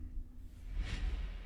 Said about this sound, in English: Then I added in my favorite transition effect,